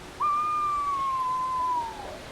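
In a giant rainforest, a bird gives one clear, sustained whistled call that slides slightly downward in pitch over about two seconds, over a soft, steady ambient hiss.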